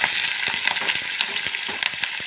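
Onions and capsicum sizzle and crackle in hot oil, a close, continuous frying hiss with light stirring scrapes.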